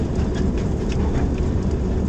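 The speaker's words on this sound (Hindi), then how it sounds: "इस वक्त 133 आप कोहाट एक्सप्रेस डुमेर रेलवे स्टेशन पर पहुंच रही है" Kohat Express pulled by a Hitachi locomotive arriving at a station, heard as a steady, loud broadband rumble of rolling train noise with faint clicking, continuous throughout and no talk.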